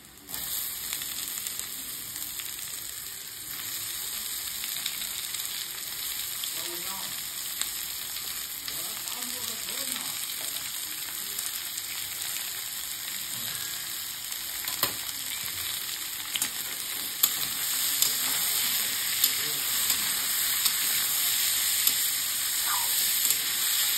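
Chopped potatoes frying in oil in a pan while noodles are being made, a constant close sizzle and crackle with occasional spatter pops and light stirring scrapes throughout.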